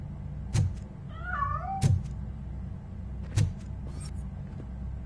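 A cat in the game Robocop Rogue City gives a single clear, rising-and-falling meow between three sharp door or mechanical thunks, set against a quiet, steady indoor hum.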